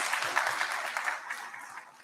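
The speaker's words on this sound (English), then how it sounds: "we can give him a big round of applause" Audience applause at a keynote event at the Gauteng Investment conference, a steady burst of clapping from a crowd that holds for about two seconds and then slowly thins.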